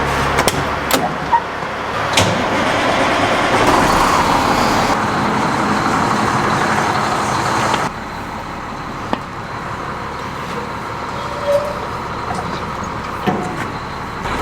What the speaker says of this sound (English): Park the dump truck in my way.